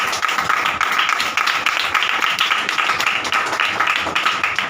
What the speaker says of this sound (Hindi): खुदा की हजूरी के लिए जोरदार ताली